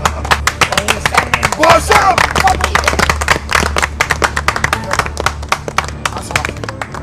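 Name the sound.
people clapping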